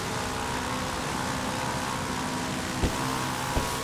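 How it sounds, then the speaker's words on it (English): Jet ski engine in GTA V gameplay, a steady droning motor hum running throughout with a couple of brief knocks near the end, no voices. "jet ski."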